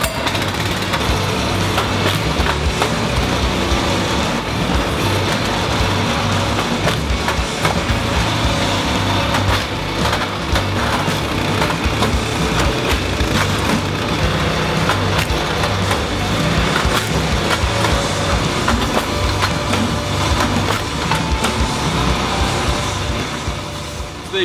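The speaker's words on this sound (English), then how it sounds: "That was the Bayer Punisher Kinetic Log Splitter." Bayer CLS45 Punisher kinetic log splitter running and splitting logs, a loud, steady engine drone with cracking, splintering wood throughout, no voices.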